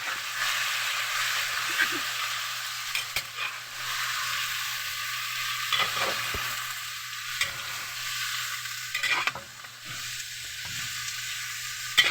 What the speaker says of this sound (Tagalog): Halo lang yung ito.